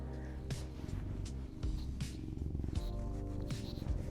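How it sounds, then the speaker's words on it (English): A pet cat named Bonnie purrs close by in a steady, low rumbling loop that continues throughout, with faint clicks and shuffles over it. "She's purring."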